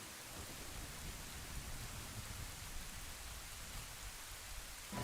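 Steady rain hisses without a break in Ocarina of Time, a dense even wash that stays constant throughout, with no hoofbeats standing out clearly and no music or voices.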